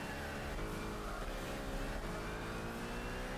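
Race car engine from Gran Turismo 6 on PS3 in an international racing event, a dense continuous roar held at steady high revs throughout, loud and close with no talk over it.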